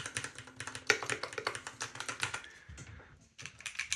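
Fast typing on a Keychron Q1 Pro mechanical keyboard with brown switches: a dense run of crisp, slightly clicky keystrokes close up, with a brief pause before the tapping resumes.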